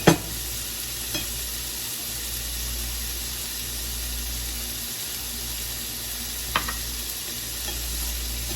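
Garlic in extra virgin olive oil sizzles steadily in a pan, giving a close, even hiss with a couple of faint clinks from stirring and no voices.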